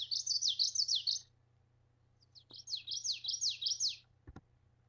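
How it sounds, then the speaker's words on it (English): A male common yellowthroat sings a rolling, repeated three-note witchity phrase in two bursts separated by a pause, clear and fairly close, with a couple of faint clicks after. "identify the common yellowthroat by playing its song. So this is what the male sounds like."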